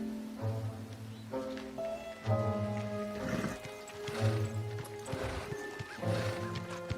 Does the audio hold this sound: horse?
yes